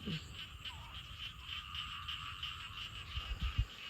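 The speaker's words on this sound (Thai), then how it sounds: "อันนี้จะเป็นเสียงเขียดพี่น้อง ออดออดออด" Small frogs croak in a rapid, rattling chorus, a steady high pulsing trill nearby with a few low thumps near the end.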